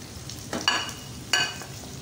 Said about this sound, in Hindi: ये हम सब इसमें डाल के भुनाई करेंगे।